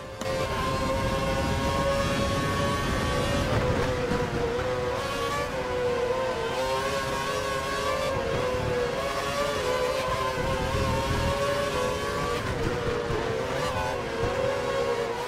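Formula One race car engines in F1 2012 during the Belgian Grand Prix, a McLaren and a Red Bull running close, with a loud, steady high-pitched engine whine holding its pitch throughout.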